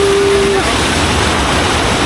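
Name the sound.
small waterfall, strong water current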